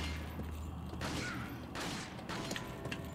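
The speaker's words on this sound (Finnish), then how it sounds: "Ammu se kello." In the 2005 video game Resident Evil 4, gunfire aimed at a bell cracks out as several sharp blasts within a dense, noisy game soundscape of rumble and mechanical clatter.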